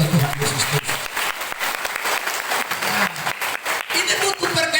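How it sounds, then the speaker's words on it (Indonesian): Congregation at an outdoor evangelistic church service claps for Jesus Christ, a loud, steady burst of many hands with individual claps standing out, while a voice speaks over it. "Beri tepuk tangan dulu yang terbaik buat Tuhan Yesus Kristus."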